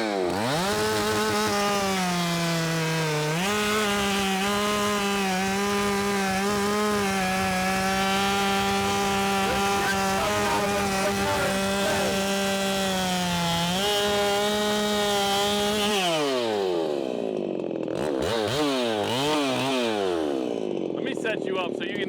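A prototype firewood bucking saw cuts through a big oak log, a loud, close, sustained engine-driven saw whine with a pitch that dips as it bogs under load, then breaks into revving and wavering after the cut.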